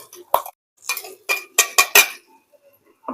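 A utensil stirs butter chicken masala in a cooking pan, giving several sharp metallic clinks and scrapes in an uneven rhythm, close and clear with quiet gaps between strokes.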